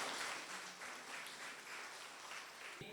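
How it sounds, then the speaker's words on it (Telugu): Sustained applause from a crowd at a golden jubilee celebration of Holy Rosary Mother church in Yellandu, Khammam, steady dense clapping throughout with no talk over it. "ఈ స్వర్ణ జూబిలీ వేడుకలలో పాల్పంచ మనందరం గట్టిగా చప్పట్లు కొడదాం ఒకసారి"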